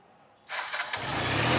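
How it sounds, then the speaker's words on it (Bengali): A TVS Metro motorcycle fired up with its touch self-start: after a quiet pause the engine catches abruptly and settles into a loud, steady idle close by. "গাড়ি কিন্তু স্টার্ট স্ক্রিন টাচ টাচ করলে স্টার্ট হয়ে যাচ্ছে"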